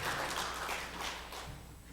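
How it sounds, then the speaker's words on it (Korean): Applause in a church for the choir, a steady wash of many hands clapping at moderate distance with no voices over it. "박수로 드립니다"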